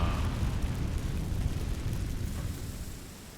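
A roaring whoosh of flame as the Incendio fire spell is cast in Hogwarts Legacy, a broad rushing burst of fire that starts loud and slowly fades over a few seconds.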